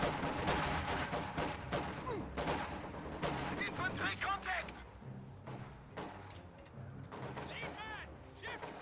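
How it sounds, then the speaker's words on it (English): In a strategy video game, a sniper fires on riflemen inside a building. Dense bursts of gunfire and sharp reports crackle steadily under a voice talking over the action. "Sniper firing on the riflemen inside of this building"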